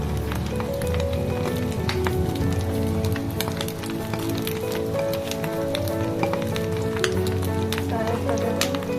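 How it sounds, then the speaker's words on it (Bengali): Eggs fry in a pan with a steady, continuous sizzle and fine crackle that holds unbroken from start to finish. The sound is fairly loud and close, with no talking. "তো এবার ডিম ভাজি করে নেব"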